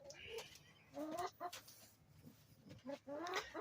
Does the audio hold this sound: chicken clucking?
yes